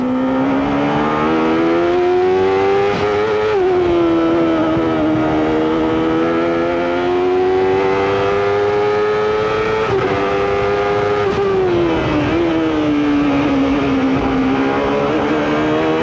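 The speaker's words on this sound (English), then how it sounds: "Every horsepower out of that Chevrolet engine trying to catch Mansell." A 1993 CART IndyCar race car with a Chevrolet engine howls steadily at high revs during the Monterrey race, its droning engine note rising and dipping through gear changes and corners, loud and close throughout with no talk.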